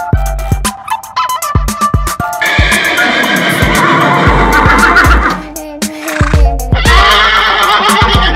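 A horse neighs loudly and repeatedly, long whinnies alternating with short sharp snorts and knocks, up close with brief gaps between calls.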